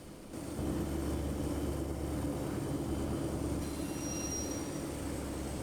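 A train climbs uphill on the Taurus Mountain route in Train Sim Classic with a loud, steady rumble of wheels and engine and faint high squeals over the top, with no talking.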